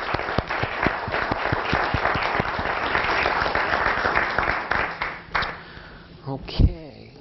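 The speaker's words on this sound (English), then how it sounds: "I think that deserves a round of applause." Applause from a small audience at a school committee meeting right after a vote, with distinct individual claps ringing out steadily before thinning and stopping, followed by voices talking near the end.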